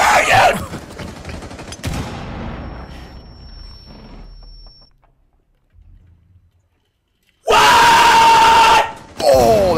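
Loud bursts of gunfire and an explosion from a first-person shooter video game, with chaotic shooting at the start, a quieter stretch fading to near silence, then a sudden heavy blast of firing near the end.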